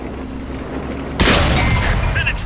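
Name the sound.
artillery fire and explosions in the video game World of Tanks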